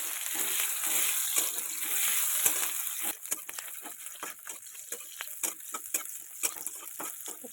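Onions frying in a pan for an Odia-style egg curry, a continuous crackling sizzle with scattered pops and stirring scrapes, close and moderately loud, no talking.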